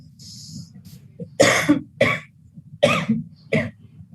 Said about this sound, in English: In the fourth phase, we will start with coughing.